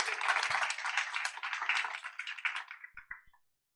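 A modest burst of audience clapping at a government transparency tech demo day, fairly quiet and thinning out into a few scattered last claps before stopping.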